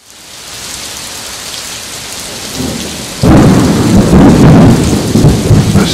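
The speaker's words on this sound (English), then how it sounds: "The storm was still rumbling outside" A thunderstorm with steady rain on surfaces and rolling thunder that swells sharply partway through, loud and close, with no voices.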